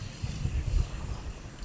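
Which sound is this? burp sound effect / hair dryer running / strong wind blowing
strong wind blowing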